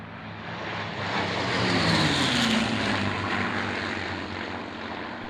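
A four-ship formation of Mustang propeller fighters running in for a pass, a loud droning engine roar that swells as the planes approach, peaks overhead and then fades slowly as they move away.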